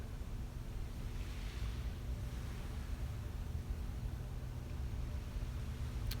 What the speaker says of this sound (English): Hopefully you can find some peace and enjoyment in listening to the waves with me.